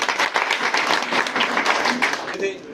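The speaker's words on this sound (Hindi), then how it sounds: "तो इनके लिए भी एक बार जोरदार ताली" A crowd applauds briskly, a dense burst of clapping that lasts a few seconds before tapering off.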